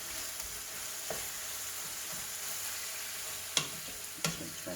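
Taco filling fries in a hot pan with a steady sizzle, punctuated by a few sharp clinks and scrapes of stirring.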